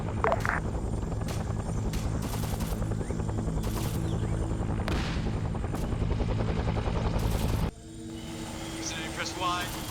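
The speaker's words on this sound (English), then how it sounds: "it's pretty accurate for the choppers here to be constantly under fire" Military helicopters in a Vietnam war video game, a continuous loud rotor drone with bursts of gunfire crackling over it, while people talk throughout; the rotor noise drops away abruptly near the end.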